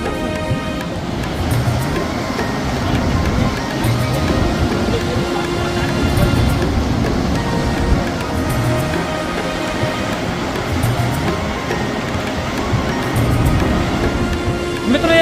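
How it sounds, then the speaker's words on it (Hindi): The Ganga rushes loudly down its bed at Gangotri in the Himalayas, a dense, roaring torrent that stays steady and close throughout, with faint tonal hum above it. "ये गंगा नदी का वेग आप देख रहे हैं, कितने शोर के साथ नीचे बहते हुए आ रही है"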